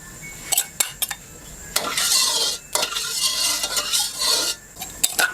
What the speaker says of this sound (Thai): ขั้นตอนการผัดก็ตั้งกระทะให้ร้อนก่อนนะครับ ใส่น้ำมันลงไปเล็กน้อย